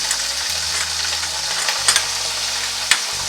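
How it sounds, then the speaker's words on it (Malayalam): Chilli, chicken masala and turmeric powders fry in a pan for a homestyle egg roast, a close, continuous sizzle with a couple of sharp scraping stirs of a spoon against the pan. "ഇത് പച്ചമണം മാറുന്നത് വരെ നന്നായി ഇളക്കി"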